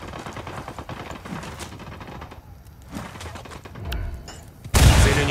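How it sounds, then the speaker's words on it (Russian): Bandits opening fire in the video game Ghost Recon Wildlands, a continuous crackle of rapid gunfire under game ambience, building to a loud burst at the end. "Бандиты начали обстрел."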